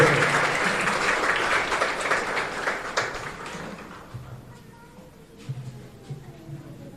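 Applause in a chapel of the Virgen del Rosario in San Antonio, a congregation clapping loudly and thickly, then thinning out and fading within a few seconds as voices carry on underneath.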